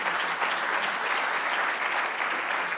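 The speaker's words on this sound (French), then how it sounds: "Je vais vous applaudir." An audience claps at an impact awards ceremony, a dense, even wall of applause holding steady throughout.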